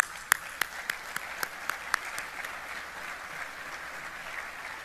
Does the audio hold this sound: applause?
yes